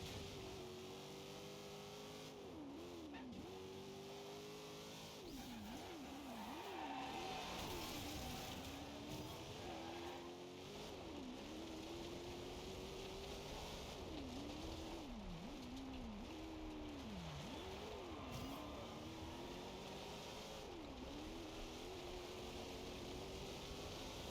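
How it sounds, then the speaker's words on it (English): Hypercar engines race in Forza Horizon 2 on a dirt rally stage, loud and continuous, with repeated revving and sharp gear-shift dips as the engines climb and fall through the gears. "Oh we got these billion-dollar hypercars. Oh yeah, let's put them on a fucking rally stage."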